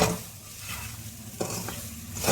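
Onions sizzle in a hot pan for chicken shawarma while a spoon stirs them, a close crackling fry with a couple of sharp scrapes against the pan and no speech.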